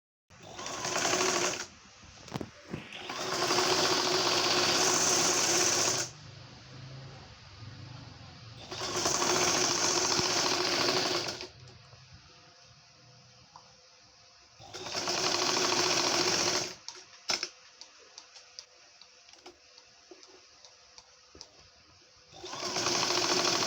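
A sewing machine stitches a frilled ruffle strip onto burqa cloth, running in several loud bursts of rapid whirring separated by quiet pauses with small handling noises.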